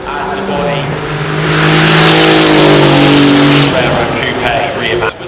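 A turbocharged car built on a Porsche 911 body drives past at Goodwood, its engine rising in pitch as it accelerates, loud and near, then fading; a commentator talks over it.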